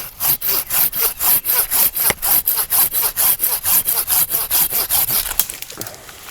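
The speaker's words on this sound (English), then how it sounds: "I'm gonna do a little bit more pruning with the Silky and just show you guys how good it is for pruning limbs around your farm." A Silky handsaw cuts through a tree limb while pruning on a farm, sounding as a steady run of about twenty rhythmic, rasping back-and-forth strokes, close and loud, before stopping near the end.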